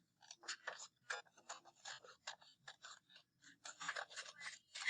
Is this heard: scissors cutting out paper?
yes